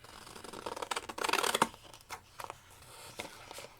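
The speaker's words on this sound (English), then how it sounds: "so I'm going to grab my scissors" Crisp snipping and rustling of paper being cut with large Tim Holtz scissors, a dense burst of cuts followed by a few sparser snips, close and fairly quiet.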